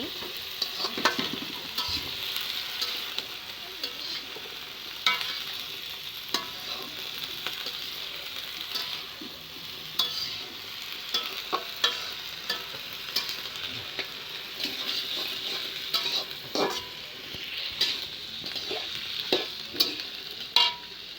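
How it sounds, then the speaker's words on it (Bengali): Food fries in a kadai while it is stirred and someone pours in more, with a continuous moderate sizzle broken by frequent irregular spatula scrapes and taps against the metal pan, and no voices. "আমার বাবা ঢালছে আর আমি নাড়াচ্ছি।"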